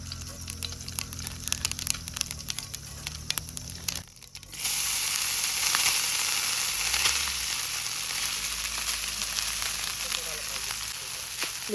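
Jeera rice frying in oil outdoors at a night camping spot, a steady close hiss and sizzle, with scraping stirs at first and then a louder continuous sizzle, no talk.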